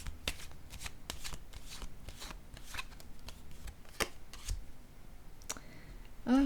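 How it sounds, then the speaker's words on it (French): Oracle cards are handled and shuffled close up, producing a run of crisp flicks and soft slaps in an uneven rhythm, with a card laid down near the end and no clear talking. "je vais déposer une carte sur la lune"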